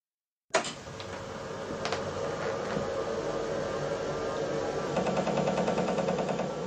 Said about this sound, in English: What you're hearing is the sound of a vintage computer.